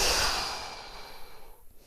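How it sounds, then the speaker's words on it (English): A long, audible mouth exhale during a yoga breathing sequence, close and airy, fading into soft quiet breathing. "using that nice mouth breath as you breathe out"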